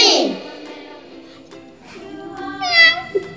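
A cartoon cat meows in an animated children's phonics alphabet song, a short bright mew near the end following sung and spoken lines over light music.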